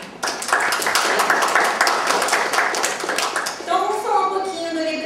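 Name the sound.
audience applause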